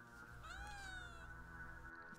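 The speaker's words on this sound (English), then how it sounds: "It is my cat." A cat gives a single short meow, quiet and slightly drawn out, rising and then falling, over a soft steady background hum indoors.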